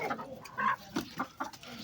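A hen clucks in a few short, separate bursts close by, with brief pauses between calls and no talking over them.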